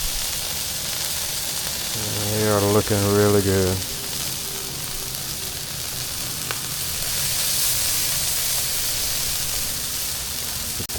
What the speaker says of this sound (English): we're going to let these sizzle and cook a little bit